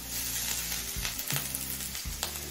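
Grated ginger frying with carrot in a pan makes a continuous loud sizzle, broken by periodic stirring scrapes, close by and with no voices.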